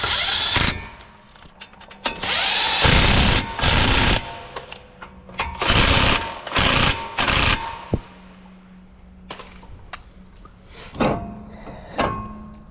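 Impact wrench working on a Nissan Altima front brake job, several loud bursts of rapid hammering rattle separated by short pauses and quieter mechanical clinks of tools in a garage.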